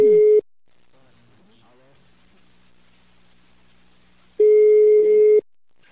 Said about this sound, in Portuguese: Ele tá chamando, tá chamando.